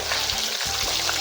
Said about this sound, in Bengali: এবার মাছগুলো একটা করে ভেজে নেব।